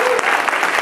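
Audience applause fills a talk venue after a presentation, a dense steady wash of clapping from a crowd lasting under a second.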